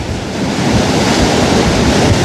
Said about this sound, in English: there's rather large waves crashing in front of me